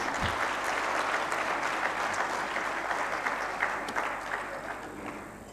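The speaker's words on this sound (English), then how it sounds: "you can give a bigger round of applause" A large crowd at a management summit applauds steadily, a dense wash of clapping that holds strong throughout and tapers only slightly at the end.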